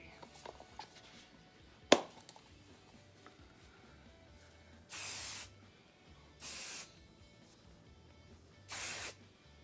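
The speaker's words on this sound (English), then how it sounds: "I'm just gonna finish off a little bit of Marc Anthony Big Volume Hairspray" Marc Anthony Big Volume hairspray sprayed in three short, even hissing bursts a second or so apart, preceded by a sharp click and some faint handling noise.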